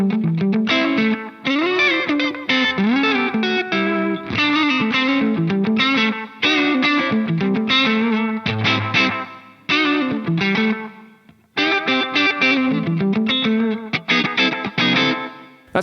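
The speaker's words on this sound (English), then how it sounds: "a little bit of slapback in front of the amp" Electric guitar played through an Atomic Amplifire 6 modeler with a slapback echo placed before the amp, heard as a continuous, loud, overdriven riff with chords and single notes and short repeats trailing each attack; no talking.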